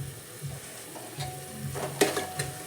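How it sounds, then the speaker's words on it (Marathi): Masala spices roasting in a hot pan, with a soft steady sizzle and occasional stirring scrapes and clinks, one sharper clatter near the end, fairly quiet overall. "मसाला असा छानपैकी मस्त भाजू दिला"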